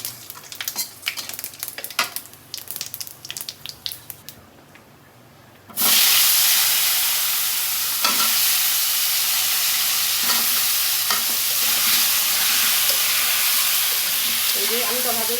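Cumin seeds and bay leaves drop into hot frying oil left from frying eggplant, bursting into a loud, steady sizzle that holds close and continuous after quieter kitchen clatter and stirring.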